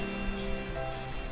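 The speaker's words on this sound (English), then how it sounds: "the rain is not doing any favors" Rain falls steadily in a video game, a soft, even wash of droplets with faint tonal background music running beneath it.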